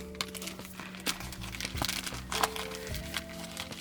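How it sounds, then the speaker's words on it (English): Plastic crinkles and crackles up close as a small zipper bag is worked open, with soft rustling and a faint hum underneath. "So I opened up this little zipper bag here."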